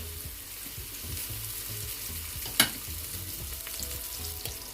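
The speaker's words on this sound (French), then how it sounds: "On va encore laisser nos oignons cuire légèrement" Onions cook softly in a pan for a Cameroonian fried-bean dish, giving a low, steady sizzle with one sharp click partway through and no talking.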